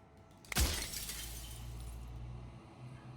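Glass shatters in the video game Slay the Princess: one sharp, close crash that splinters into ringing shards, then a low lingering rumble fades under quiet background hum.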